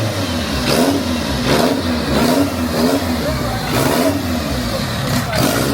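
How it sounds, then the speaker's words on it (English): Go-kart engines racing at a track in Brazil, a buzzing mid-pitched drone that rises and falls as karts accelerate and pass in repeated waves, heard from a distance and fairly loud. "So now they're doing go-kart racing down there."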